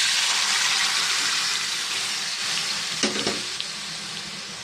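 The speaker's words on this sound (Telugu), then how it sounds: "ఇక్కడైతే మనకి పోపు అనేది చక్కగా ఫ్రై అయిపోయింది" A Telugu-style tempering of spices sizzles and fries steadily in a pan before dal is added, a continuous close crackling hiss with a couple of brief stirring clatters near the end and no talk.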